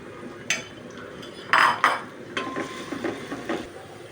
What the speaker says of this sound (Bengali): তেলটা গরম হয়ে গেছে এখন আমি এই যে কুচি করা পেঁয়াজ আর রসুনগুলো দিয়ে দিব দিয়ে একটু বাদামি বনের করে ভালো করে ভেজে নিব